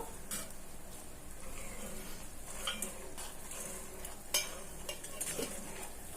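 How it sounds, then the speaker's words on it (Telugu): Homemade herbal hair oil with leaves simmering slowly in a pan while being stirred, a soft quiet sizzle punctuated by a few faint clicks and scrapes of the spoon against the pan. "ఈ విధంగా కలుపుతూనే ఉండాలి. చాలా నెమ్మదిగా ఉడకాలని."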